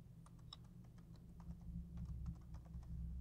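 Quiet, steady typing on a computer keyboard: a run of light, quick keystrokes with small pauses, heard alone over a low room hum.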